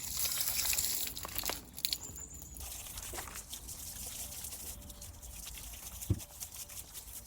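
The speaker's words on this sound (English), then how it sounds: "So let's get that rinsed off." Water rinsing cleaner off Mini Cooper S brake parts, a steady trickle and splatter with crinkling, crunchy handling noises and a couple of sharp knocks, fairly close.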